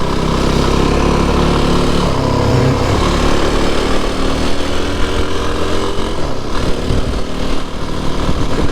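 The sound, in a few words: motorbikes passing on a country road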